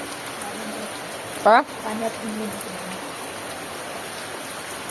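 Continuous rain falls during a third straight day of downpour, a dense, even hiss that runs the whole time. A short vocal exclamation breaks in briefly near the middle.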